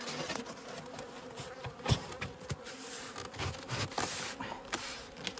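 A dense, steady buzz of many Carniolan honeybees close by at an open hive, with scattered soft knocks and rustles over the continuous drone.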